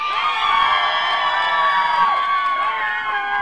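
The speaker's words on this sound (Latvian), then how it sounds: "Aplausi par Ināru" Festival crowd at a Latvian music festival cheers and shouts for a dancer after a waltz, with loud overlapping high-pitched voices and whoops and little audible clapping.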